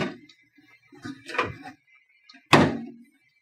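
Tip-out cabinet doors at a lake house are opened and shut, a few soft clicks and knocks followed by one sharper closing clap, close by in a quiet room.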